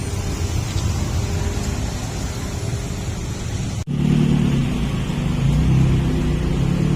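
Cars idling and creeping in a holiday traffic jam on the road up to Puncak, Bogor, a steady low engine rumble that swells louder after a brief dip partway through, with no talk.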